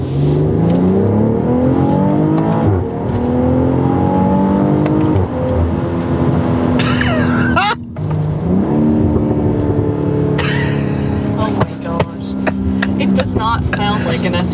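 A 2021 BMW X3 M40i SUV engine accelerates hard through several upshifts, each rising roar dropping at the gear change, loud and close from the cabin, with talk heard in places.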